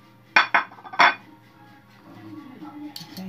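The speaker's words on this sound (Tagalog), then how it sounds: "Okay, mix ko muna." Metal utensil clanking against a pan while fried sweet potato snack (camote) is stirred, a few sharp clinks close up followed by softer scraping, with a voice speaking quietly near the end.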